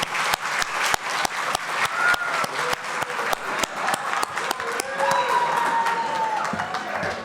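Audience applause at an awards gala, a dense, steady round of clapping from a sizeable crowd filling the whole stretch, with faint cheering and voices mixed in toward the end.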